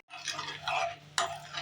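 A spoon stirs and scrapes in a small bowl, dissolving sugar into two spoonfuls of milk for a no-oven chocolate cake, in a few close, soft swirling bursts with a sharper clink near the end and no talking.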